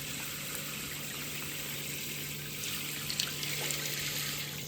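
Steaming hot water runs steadily from a battery-powered portable shower head with a gas-flame heater, a continuous close hiss and splash that grows slightly louder partway through, with no talking.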